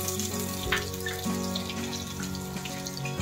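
Potatoes fry in hot oil that was just used for fish, a close, continuous bubbling sizzle with a few crackling pops and a faint low hum under it, and nobody speaking.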